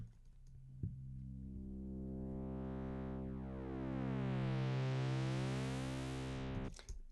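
A mono Moog synthesizer plays without any echo effect, a dry sustained buzzy tone that brightens and sweeps over several seconds after a short click, then cuts off.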